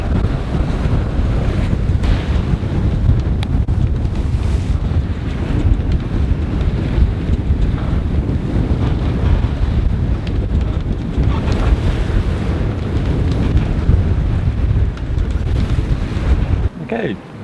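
Strong wind and choppy sea rush past a yacht sailing in gusts up to 18 knots near Ibiza and Formentera, a loud, steady roar of wind buffeting the microphone over splashing waves, continuous until it cuts off near the end.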